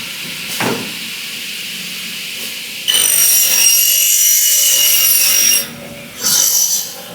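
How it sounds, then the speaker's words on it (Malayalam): A double head cutting machine saws through a UPVC window profile at a 45-degree angle, a loud, harsh, high cutting whine starting at about three seconds and lasting a few seconds, followed by a shorter second cut, with light handling before. "ഇത് ഡബിൾ ഹെഡ് കട്ടിംഗ് മെഷീനാണ്."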